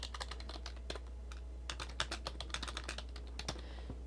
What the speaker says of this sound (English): You can type in a seed